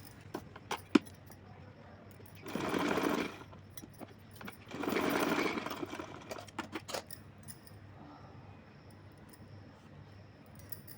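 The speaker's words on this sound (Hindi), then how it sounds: "इसको थोड़ा सा मैं तिरछा यहाँ तक सिलूँगी" A sewing machine runs in two short bursts of stitching on a small Laddu Gopal doll's dress, each lasting about two seconds, between quieter clicks and handling sounds; no voices.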